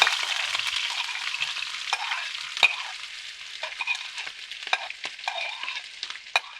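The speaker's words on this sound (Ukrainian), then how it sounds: "Смажуємо цибулю." Onion sizzles steadily in hot oil, with occasional scraping clicks from a utensil stirring the pan, close and continuous.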